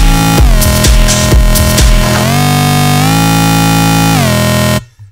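A house bass pad from NI Massive on the Polysaw oscillator, dropped an octave, plays a thick, loud, buzzing sustained tone with a few rhythmic bass hits at first, holding steady before cutting off abruptly near the end.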